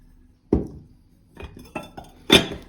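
Ceramic dishes clink and knock together in a few separate bursts, the last one a bright, ringing clatter, with quiet pauses between.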